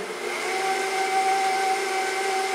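Steady whirring hum of an electric mixer beating cookie dough in a home kitchen, a constant motor drone with a high tonal whine, continuous and close.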